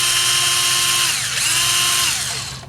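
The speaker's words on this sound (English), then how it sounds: "So first, you'll be removing these 4 bolts." A power tool runs steadily on the bolts holding the front coil cover of a 1995-2001 Nissan Maxima during spark plug replacement, a loud continuous whine that dips in pitch twice under load.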